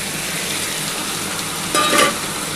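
Small mourala fish with yardlong beans and potatoes being stirred in a pan with a little water, a steady frying sizzle with a brief louder scrape of the spatula near the end.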